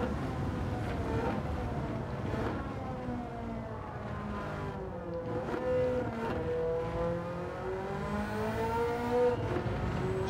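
A Ferrari F40 racing engine in Gran Turismo 7 drones and climbs in pitch through the gears at high speed, loud and continuous with wind rush.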